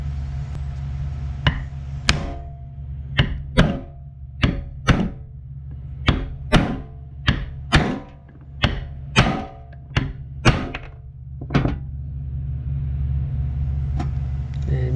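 A bearing is driven with a socket into a component of a 1998 WoodMizer LT40 Super Hydraulic sawmill, giving about a dozen sharp, loud metallic strikes at an uneven pace over a low background rumble.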